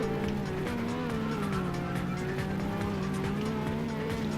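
A Dodge Charger race car spinning out in a racing video game, a steady droning engine note with sustained tire squeal and skidding, continuous and fairly loud, no talking.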